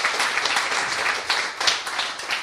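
Audience applause after a conference talk, a dense, steady wash of many hands clapping in a hall, fairly loud and continuous throughout with slight swells.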